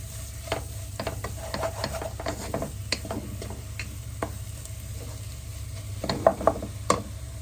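Masala is mixed into a Kerala-style white tuna fish curry in a pan, with a spoon scraping and tapping irregularly over a steady low sizzle, plus a few sharper knocks toward the end, close up and without talk.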